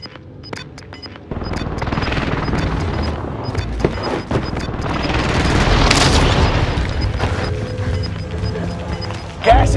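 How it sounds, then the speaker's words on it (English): Precision airstrike explosions in Call of Duty Warzone on Rebirth Island build into a loud, sustained rumble of booms and crashes, with a sharp final blast at the end. "Precision airstrike."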